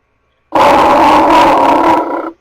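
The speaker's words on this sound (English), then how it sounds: "I replaced the lion from the MGM logo with my faithful cat Shackleton." A cat's loud, sustained roaring yowl stands in for the MGM logo lion, lasting about two seconds, close and alone, with no talk.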